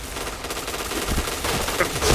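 Rapid automatic gunfire from a shooter video game bursts out in dense, steady volleys through the whole stretch, loud and close, with no one talking over it.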